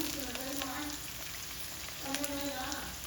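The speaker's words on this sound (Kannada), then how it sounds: "ಈರುಳ್ಳಿ ಕರಿಬೇವು ಹಾಕ್ಕೊಂಡು ಒಂದು ಸ್ವಲ್ಪ ಹೊತ್ತು ಫ್ರೈ ಮಾಡ್ಕೊಳ್ಳಿ" Onions and curry leaves fry in a pan with a continuous close sizzle. A voice talks over it in two short stretches.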